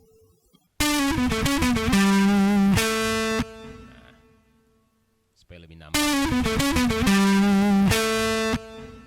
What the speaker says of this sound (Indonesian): Sini suara middle-nya untuk menambahkan karakter distorsinya biar lebih kentara